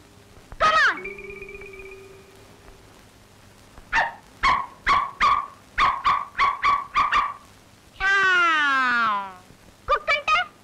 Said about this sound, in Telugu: Now the dog comes.